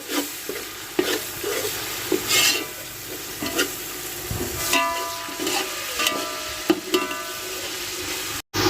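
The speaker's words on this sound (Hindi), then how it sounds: "लहसुन अदरक पेस्ट 5 से 6 खाने के चम्मच ये इसमें शामिल कर देंगे। इसकी हल्की सी भुनाई कर लेते हैं।" Garlic ginger paste sizzles and fries in a hot pan while a utensil stirs and scrapes it now and then, close up and steady.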